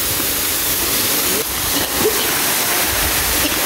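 Water pours at Dampalit Falls with a loud, constant roaring rush that fills the whole scene close by, without letup, while faint voices murmur underneath.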